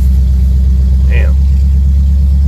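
A 1968 Pontiac ambulance engine runs loud and steady on its first legal drive in 40 years, a constant deep rumble with a brief faint chirp over it.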